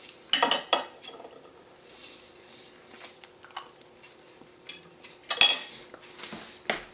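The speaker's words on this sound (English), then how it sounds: "And scoop scoop up a bit of bun and chili with it" A utensil scooping bun and chili beside a chili cheese bratwurst, with clattering scrapes and clinks against a dish in a few bursts and softer scraping between them.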